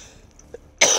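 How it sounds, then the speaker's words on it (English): A single sharp cough bursts out near the end after near silence, loud and close, with a rough throaty quality. "I got the cough."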